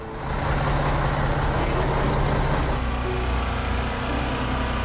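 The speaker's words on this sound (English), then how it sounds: "Watching as the truck hauling the homes slowly pulls away." A truck hauling houses on a trailer pulls away with a loud, steady engine rumble and broad road noise, close and continuous, the sound building quickly and holding level.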